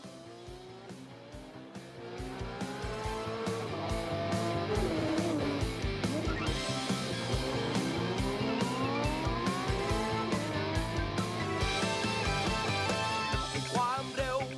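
Toyota Gazoo Racing GR race cars on hot laps at the Bangsaen Grand Prix street circuit, engines roaring loud and continuous as they pass, with tires squealing and skidding through corners.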